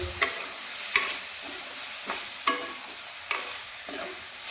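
Capsicum, peas and chopped potatoes stirred in a frying pan, with a soft steady sizzle broken by sharp scraping clacks of the spoon roughly every second, close and without talk.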